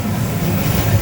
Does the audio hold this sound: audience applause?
no